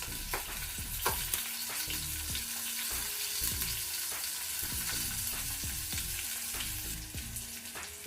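About eight cut dried red chillies fry in hot oil in a pan, a continuous close crackling sizzle with repeated stirring scrapes throughout.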